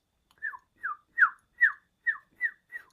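A voice imitates a low bird chirp, seven short whistled chirps in an even rhythm, close and clear against silence.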